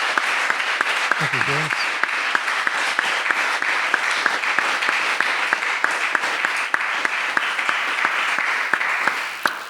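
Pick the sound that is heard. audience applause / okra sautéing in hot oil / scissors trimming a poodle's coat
audience applause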